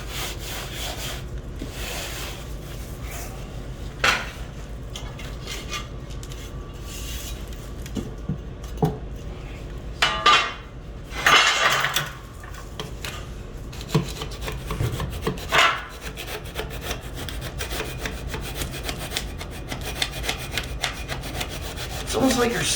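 Steel trowel scraping and rasping across dry pack mortar on a shower floor, a steady back-and-forth gritty sawing texture with occasional sharper scrapes and knocks, close and continuous.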